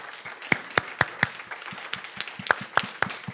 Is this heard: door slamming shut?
no